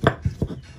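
Spices pounded in a stone mortar (ulekan) for a milkfish pickle-spice dish: three or four dull, thudding strikes in an irregular rhythm, close and fairly loud, with no voices.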